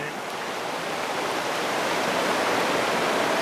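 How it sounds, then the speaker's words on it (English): Shallow rapids on the Meander River, with water rushing and churning in a steady, loud broadband hiss that builds slightly and never lets up. "There's only some water pushing down."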